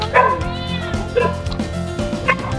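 A cat meows several times at close range in the Quezon Province countryside, with a dog's yips and a bit of background voice mixed in.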